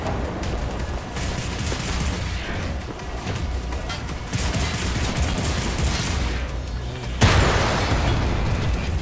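Grenades and gunfire in the shooter game Wolfenstein: The New Order make a dense, loud barrage of booms and bursts, with heavier blasts near the middle and the end.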